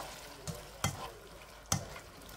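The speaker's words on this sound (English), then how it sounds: "now what I'm going to do is stir all this around" McCormick chili sauce and chili spice stirred in a pot, a soft spoon scraping with three sharp knocks against the pot over a quiet, steady background hiss.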